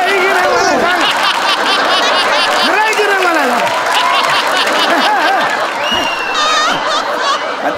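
A crowd claps steadily throughout, with chuckles and laughter mixed in while people talk loudly over the applause.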